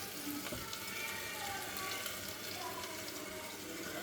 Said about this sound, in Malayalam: എണ്ണ നന്നായി ചൂടായി. നമുക്ക് ചിക്കൻ ഇട്ട് കൊടുക്കാം.